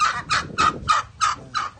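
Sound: chickens, turkeys and ducks

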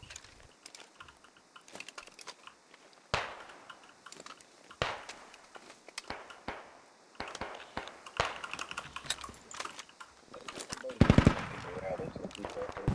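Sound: gunfire in the video game Squad

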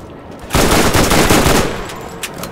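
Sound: gunfire in the video game Borderlands

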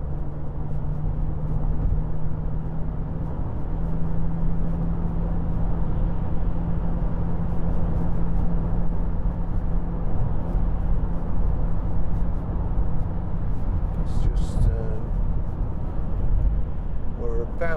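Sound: 2010 SEAT Altea 1.9 TDI car driving on motorway

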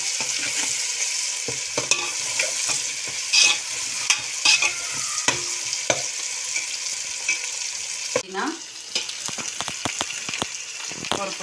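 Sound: tomatoes sautéing in a pan

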